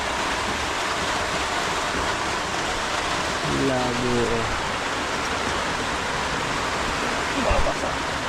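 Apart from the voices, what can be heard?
heavy rain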